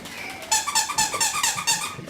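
Squeaky dog toy for Chihuahua puppies squeezed repeatedly, a rapid run of about eight sharp, high-pitched squeaks close up, with no talk over them.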